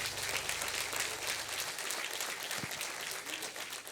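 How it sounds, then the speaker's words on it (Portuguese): A church congregation applauds, a dense and sustained burst of clapping from a large crowd that fills the room, steady and loud with no pause. "Dê mais uma salva de palmas a Jesus."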